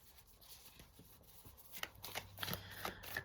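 A deck of tarot cards is shuffled close up, soft riffling and slapping that grows busier and louder toward the end, with no talking.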